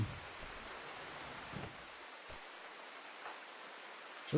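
Rain falls steadily in Rimworld as a soft, even hiss of light drops, faint and continuous, with a few low knocks and no speech.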